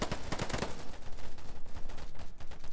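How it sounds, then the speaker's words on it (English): Gunfire from an enemy player in the video game Polygon: a dense run of sharp shots in the first second, then a steadier, softer rattle of fire, fairly loud with no talk. "he's shooting me from their spawn"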